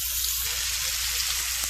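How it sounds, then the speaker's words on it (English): Broccoli sautés in melted butter in a pan, giving a continuous bright sizzle and crackle at close range, steady and unbroken with no voices. "I've added some butter to this pan. I'm going to use this pan to saute the broccoli."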